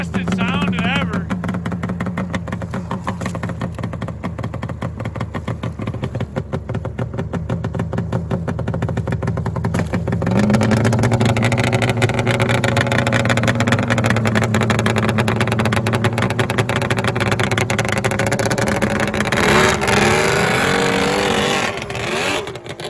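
800cc triple-cylinder snowmobile engines cold start: a loud, rough idle drones throughout, then another engine catches and rises into a fuller, revving roar, very close.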